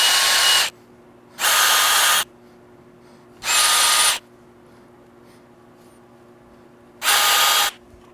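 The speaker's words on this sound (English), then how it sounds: "I'm going to start by marking where I want to drill the hole" A power drill with a 1/16 drill bit bores a small hole while a GIVI Blade top case is installed on a shelf. It comes as four short, loud whirring bursts separated by quiet pauses, with no talking.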